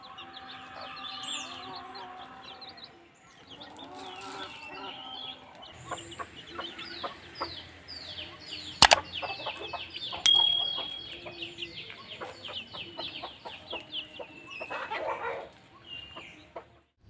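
A multicoloured rooster and hen in a Konkan village cluck and chirp on and off, soft and scattered at first, then busier, with a sharp click and light handling noises in between.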